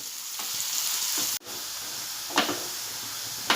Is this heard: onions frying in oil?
yes